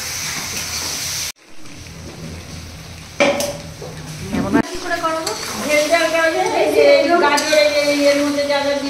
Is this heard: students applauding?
no